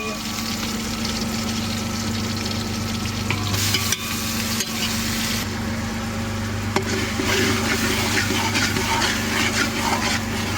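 Masala and onions sizzle steadily as they are fried and stirred in a pan, with a constant close crackle and occasional scraping of the spoon throughout.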